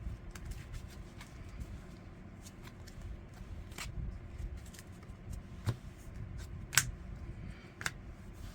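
A deck of cards is shuffled by hand for a Branded/Blue-Eyes test hand: a steady stream of soft riffling and flicking, with sharper snaps near the end, close and alone without talk.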